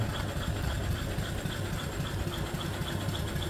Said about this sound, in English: The big old flywheel runs real true.